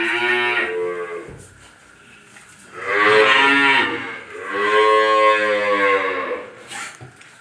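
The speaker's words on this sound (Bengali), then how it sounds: "বিগ সাইজের গরু ভাই এটা।" A large Holstein Friesian cow moos loudly twice in long, drawn-out calls, with a fainter low call at the start, close by at a livestock farm.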